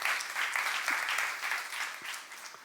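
A church youth congregation bursts into applause, a dense crowd of clapping hands heard at moderate distance, swelling then gradually tapering off.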